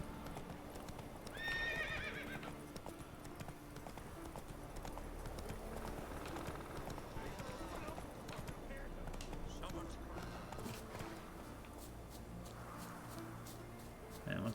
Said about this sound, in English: the fucking wild horses just wandering around